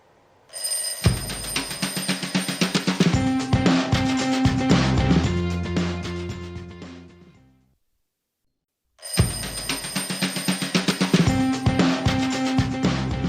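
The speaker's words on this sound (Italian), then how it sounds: "abbiamo subito una telefonata in arrivo, la sentiamo immediatamente" A telephone rings for an incoming call during a live Italian morning radio show in Trieste: two loud bursts of repeated electronic trilling, separated by a few seconds of silence, with no talk.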